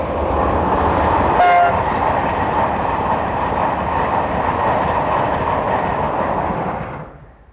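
An LNER Class 91 electric locomotive hauling Mark IV coaches roars past loud and close in a steady wash of rail and wheel noise, with a brief horn tone early on before the sound fades away.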